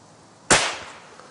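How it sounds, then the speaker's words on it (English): A single sharp gunshot cracks out once at close range, fired at a red squirrel, then decays quickly into a quiet outdoor background. "I'm going to shoot it to the back of the head between the ears, and that'll kill it straight away with one shot."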